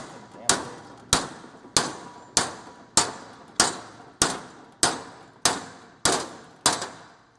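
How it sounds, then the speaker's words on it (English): A hammer strikes metal in a steady rhythm, about eleven sharp ringing clangs roughly every half second, each ringing briefly before the next blow, loud and close. "See, now you're leaving all these hammer marks"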